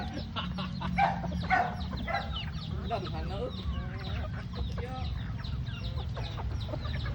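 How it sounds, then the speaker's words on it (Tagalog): A flock of chickens clucking close by, repeated overlapping clucks and short calls over a low background rumble, with a person speaking briefly. "Pero daghana ng manok oy."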